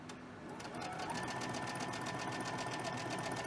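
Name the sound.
sewing machine chain stitching fabric pieces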